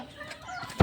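Backyard pet chickens cluck faintly in the background, ending with one short, louder cluck close by.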